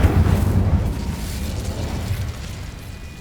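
The Incendio fire spell in Hogwarts Legacy bursts with a low whooshing blast that starts loud and decays into a rumbling crackle over about three seconds.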